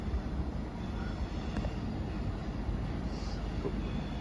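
An Avanti West Coast train rolls through a station with a low, continuous rumble and rattle, fairly distant and steady, with faint wind noise.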